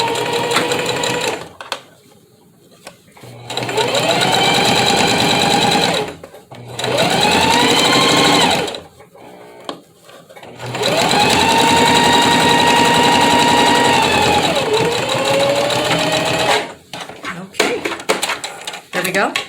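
Sewing machine stitching a fabric face mask, running in several long motorized bursts of a few seconds each with pauses between; a voice speaks during the quiet gaps.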